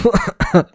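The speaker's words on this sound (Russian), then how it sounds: "Мальчик кашлянул." A boy gives two short, close coughs in quick succession, each a brief voiced burst, within under a second.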